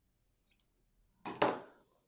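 Scissors trim the fabric corners of a quilt block with a couple of faint small snips followed by two sharp, close cuts in quick succession, set against quiet surroundings.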